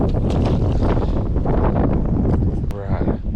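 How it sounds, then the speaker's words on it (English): Strong wind roars across the microphone on a boat during crappie fishing, a loud continuous buffeting rumble with water in the background and people talking over it. "Very windy"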